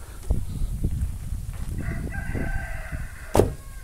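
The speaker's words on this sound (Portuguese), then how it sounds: "Olha o galo dando boas-vindas." A rooster crows once, fairly near, arriving at a rural house where coconut beiju and cassava flour are being made, a sustained harmonic call over footsteps, rustling and ambient outdoor noise, with a sharp clatter near the end.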